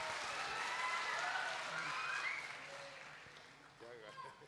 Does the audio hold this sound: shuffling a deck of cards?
no